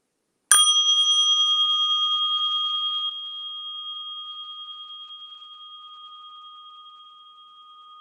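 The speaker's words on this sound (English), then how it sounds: "So as I ring the bell, just gaze on the bell." A meditation bell is struck once at the opening of an online community gathering, its bright metallic ring sounding alone and close, then sustaining as a clear, pulsing tone that slowly fades over several seconds.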